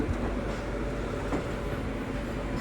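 A long python goods train standing at platform 3 of Rajahmundry station, heard as a steady low rumble of rail noise, constant and fairly loud, with no voices.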